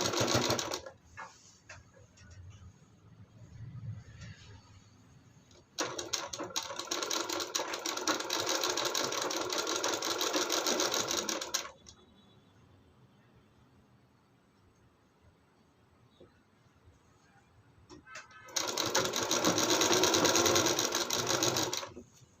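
A sewing machine runs half-inch stitching around a blouse neckline in two long steady bursts of rapid mechanical whirring, separated by quieter stretches of faint handling.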